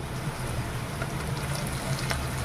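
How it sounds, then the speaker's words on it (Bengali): A ginger, garlic, onion and cumin paste fries in a pan with a steady, close sizzle and soft bubbling that holds evenly throughout, with no voices. "দু চামচ দিয়ে দিলাম মশলাটার কাঁচা করে যাওয়া পর্যন্ত একটু ভেজে নেব"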